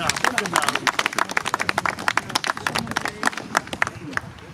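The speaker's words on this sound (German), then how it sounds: "Einen Applaus haben wir bitte." Guests at a 75th birthday celebration in Erlenbach clap in a loose, uneven patter of distinct hand claps while people talk nearby, the claps staying fairly close and moderately loud.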